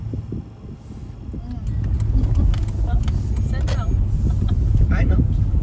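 A car being driven around to reach normal operating temperature after its idle control valve was cleaned, with a steady engine and road rumble that rises after the first seconds, plus wind noise and occasional background voices.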